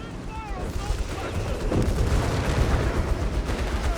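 Vickers machine gun fire in Company of Heroes 3 during a desert battle with a Grant tank nearby: a dense, rumbling wash of gunfire and distant booms running steadily under a voice.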